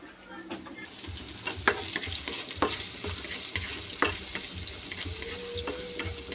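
Garlic, onion and chicken thigh with liver sauté in a pan with a steady close sizzle, broken by several sharp clacks of a utensil stirring against the pan.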